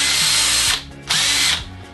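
Hammer drill driving a Dewalt sheet metal cutter attachment through tough stainless steel, heard as two loud, close bursts of high-pitched grinding whine with a short pause between them, no voices.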